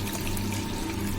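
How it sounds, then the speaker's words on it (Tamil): Water pours steadily into a bowl while crab rasam is strained in a home kitchen, a continuous close splashing rush with no talk. "இன்னும் கொஞ்சம் தண்ணி ஊற்றி நல்லா வடிகட்டணும்."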